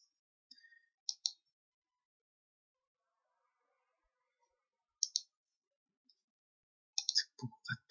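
Mouse clicks on a website's OK button: a few sharp, isolated double clicks spaced apart by silence, with a quicker cluster of clicks and soft handling noise near the end.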